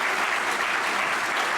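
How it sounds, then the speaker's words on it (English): A conference audience at a summit applauds its panelists, a dense, even burst of clapping from a full room that lasts only briefly. "let's give a round of applause to our panelists"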